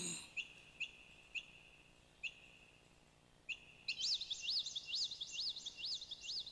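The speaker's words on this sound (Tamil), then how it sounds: "பறவைகளை கவனித்து பாருங்கள்." Birds chirp outdoors, first in a few sharp separate calls and then in a faster run of repeated sweeping tweets, faint against a quiet background.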